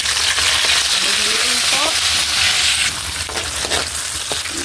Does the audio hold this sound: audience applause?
no